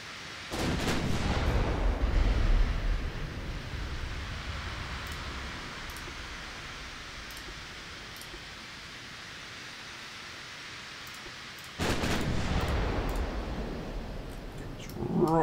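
A battleship's 10-inch guns fire in a naval battle in Ultimate Admiral Dreadnoughts, two deep, loud salvos about eleven seconds apart, each followed by a long fading roar and a steady hiss of sea ambience in between.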